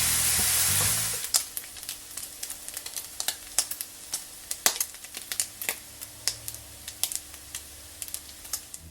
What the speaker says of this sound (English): we're just going to stir fry this bacon just for a couple of minutes until it starts to brown up